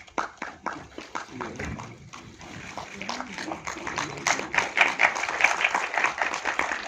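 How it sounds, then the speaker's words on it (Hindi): Audience applause at a film trailer and poster launch press conference, a dense burst of clapping that starts thin and swells louder toward the end, with a voice over the first part. "जोरदार तालियां"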